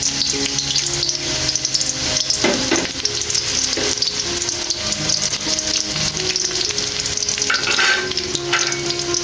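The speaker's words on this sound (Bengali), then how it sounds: "পেঁয়াজ কাঁচামরিচ ভেজে নেব" Chopped onions and green chillies fry in hot white oil in a kadai for a lentil chorchori. A loud, steady sizzle with scattered crackles and occasional stirring scrapes runs throughout, with no talking.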